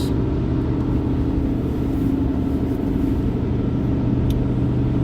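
A pickup truck driving on the road, a steady close engine and road rumble inside the cab with no breaks.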